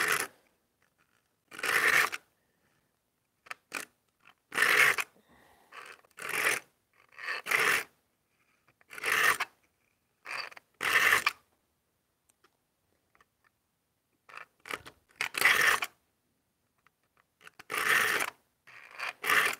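A metal file sharpening a handsaw, rasping in short separate bursts of strokes with quiet pauses between them, close and clear with no voices.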